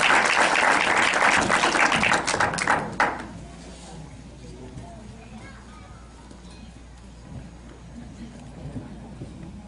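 A congress audience on education in Tamaulipas applauds a speaker, a loud burst of clapping that fades out after about three seconds into quiet room tone with faint low murmurs.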